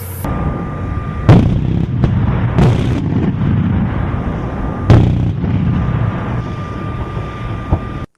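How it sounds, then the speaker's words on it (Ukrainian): A steady mechanical drone runs throughout, broken by several loud, sharp blasts from an air defense gun firing rapidly at close range on a military firing range, about five thousand rounds per minute, with no talking. "За одну хвилину ця бойова машина може здійснити близько п'яти тисяч пострілів"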